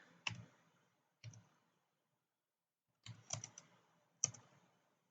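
Quiet bursts of clicking from a computer keyboard, short clusters of keystrokes separated by silent pauses, close and soft with no talk.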